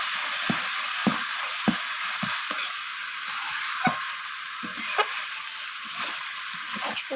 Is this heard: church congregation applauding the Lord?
no